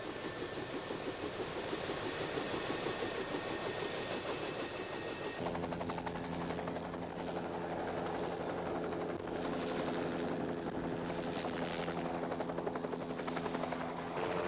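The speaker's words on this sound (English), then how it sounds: "The convoy of 4 helicopters flies toward the mountain." Helicopter rotors thump steadily with a droning engine whine, loud and sustained throughout, the pitch shifting partway as the aircraft passes; a convoy of four helicopters flying toward Mount St. Helens in 1980.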